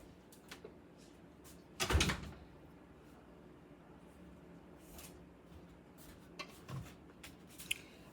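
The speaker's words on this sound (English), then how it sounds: "I have to go close the door." A house door closes with one solid thump partway through, surrounded by quieter scattered clicks and handling sounds in an otherwise calm indoor room.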